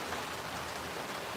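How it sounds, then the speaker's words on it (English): Steady rain falls outdoors in a dense, even hiss, close and constant across the short stretch, with no voices over it. "now it's raining, so this is a good test"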